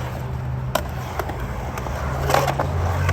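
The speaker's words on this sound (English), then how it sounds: "do this little power slide to Smith slashes on both trucks" Skateboard power slide on acid wheels while skating transition, heard as a rolling wheel rumble with a sharp scrape and clack partway through, then a louder grinding slide toward the end, close and alone without talk.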